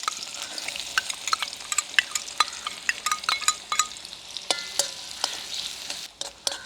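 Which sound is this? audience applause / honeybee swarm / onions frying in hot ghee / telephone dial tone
onions frying in hot ghee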